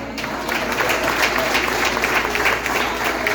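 A crowd applauding steadily at a church service, a dense wash of clapping that holds at an even level for the whole stretch.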